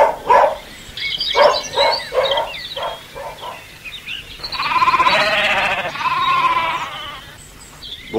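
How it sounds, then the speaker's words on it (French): Sheep bleating on a farm: short repeated calls, then a long, tremulous, wavering bleat in the middle, fairly close and clear with no talk over it. "Bonjour, je suis le mouton."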